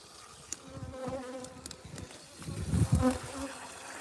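Honeybees buzz steadily at a beehive outdoors on a mild midwinter day after rain, a dense, continuous hum of many insects with individual bees droning close past now and then, swelling louder near the end.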